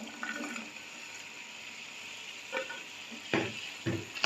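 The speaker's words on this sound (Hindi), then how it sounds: "शिमला मिर्च ऐड करेंगे और इसको अच्छे से भूनेंगे।" Capsicum frying with minced keema in a pan, a faint steady sizzle broken by a few louder stirring scrapes and clatters toward the end, close with no talking.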